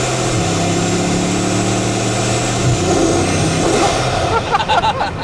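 A convertible driven with the roof off, its engine hum steady under a loud broadband rush of wind, the engine note shifting partway through as the air noise roughens.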